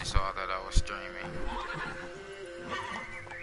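Roach, the horse in The Witcher 3: Wild Hunt, whinnies in a couple of short bursts with faint hoof clops, over game ambience while someone talks along.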